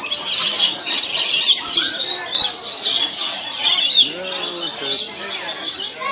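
A flock of lorikeets at a zoo squawks and chirps without stopping, shrill and loud up close. A person talks briefly under the dense bird calls toward the end.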